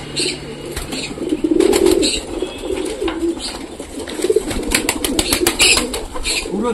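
Pigeons coo repeatedly at close range in a cage, with throaty rolling calls rising and falling in bursts, some wing rustling and light chirps mixed in.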